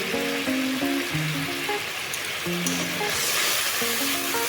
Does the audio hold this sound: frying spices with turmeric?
yes